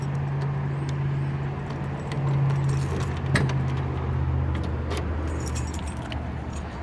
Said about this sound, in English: Let me pull a key out of my pocket here